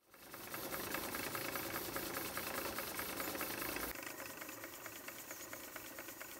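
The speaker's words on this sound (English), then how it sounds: "The Stuart steam engine S50 that is powered by the steam runs a little self-made ventilator" A small Stuart S50 model steam engine chugs in a fast, steady mechanical rhythm, continuous and fairly quiet, with a slight shift in tone partway through.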